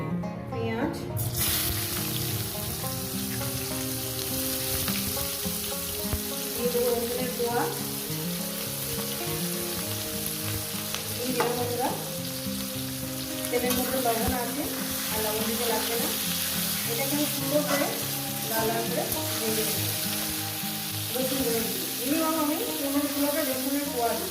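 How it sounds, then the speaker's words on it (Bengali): Whole garam masala tempering crackling in hot oil, then stirred, for a chicken curry: a steady close sizzle with scattered spatula scrapes and clinks throughout, and no voice over it. "ওটা গরম মশলা ফোড়ন দিলাম দিয়ে দেবো এখানে"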